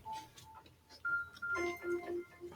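A phone sounds a find-my-phone alert as a series of short electronic tones, first a few soft beeps, then louder repeating higher pitched chirps in an irregular pattern, heard fairly close in a quiet room.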